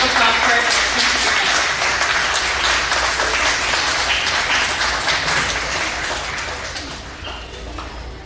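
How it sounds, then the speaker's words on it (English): Loud, sustained applause and clapping from an audience at a 4-H cat show, a dense wash of hand claps that holds steady and fades slightly toward the end. "Let's have a round of applause for it."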